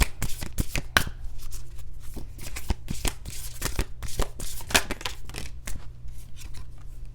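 Moonology oracle cards being shuffled up close, a steady run of crisp flicking and riffling slaps that tumble in quick, uneven bursts for several seconds, with no talking.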